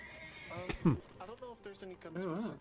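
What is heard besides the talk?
horse neighing, from a video game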